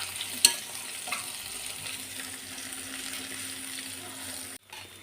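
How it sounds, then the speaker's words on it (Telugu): Brinjal pieces frying in a pan, a soft continuous sizzle with a sharp clink near the start and light stirring noises, quiet throughout and cutting out briefly near the end. "ఇప్పుడు చూడండి వంకాయలు మొత్తం మంచిగా ఫ్రై అయినాయి కదా"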